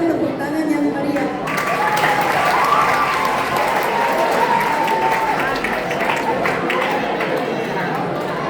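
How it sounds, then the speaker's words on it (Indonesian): Audience applause following a school dance performance at a Chinese New Year service, a loud continuous wash of clapping with crowd noise and voices mixed in throughout. "Siapkan tepuk tangan yang meriah."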